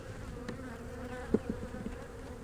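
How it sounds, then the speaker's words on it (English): Honeybees in a starving hive hum softly and continuously at close range, a low sluggish drone with a few faint bumps and scrapes. "So the remaining bees in here are very sluggish, moving real slow."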